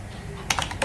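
Computer keyboard keys being typed in a short burst of several quick, close clicks that follows a moment of faint background hum.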